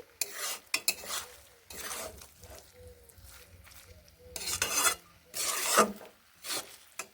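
Spinach and mung dal being sautéed in a pan, with scraping and stirring strokes of a spatula coming in irregular bursts, close and fairly loud, with quieter pauses between.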